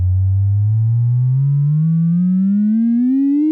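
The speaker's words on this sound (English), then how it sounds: "This is a sine wave." A synthesizer sine wave hums alone, loud and steady, its low tone gliding smoothly upward in pitch for several seconds with a slight wobble.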